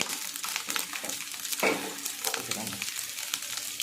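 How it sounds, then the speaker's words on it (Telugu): Garlic cloves fry in sesame oil in a pan, giving a steady close sizzle with crackles and brief stirring scrapes. "ఈ ఎల్లుల్లిపాయ గుళ్ళు చక్కగా ఎర్రగా వేపుకోవాలి మంచి గోల్డెన్ కలర్ వచ్చేంత వరకు వేసుకుంటే బాగుంటుంది"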